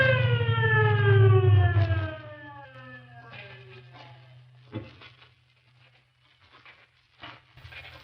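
A police siren wails with a falling pitch, loud at first and then fading as it recedes, with a few knocks and rustles afterward.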